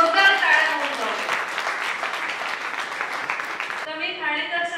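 Audience clapping for Mrs. Asha Matkar at a book launch ceremony, a sustained, dense wash of applause that holds steady throughout and continues under a brief tonal sound near the end.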